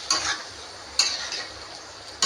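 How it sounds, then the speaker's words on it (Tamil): Boiled potatoes stirred into a spiced egg curry, a spoon scraping and clinking against the pot in a few separate strokes, close and fairly quiet. "மிக்ஸ் பண்ணிவிட்டு நல்லா கிண்டி விட்டுக்கணுங்க"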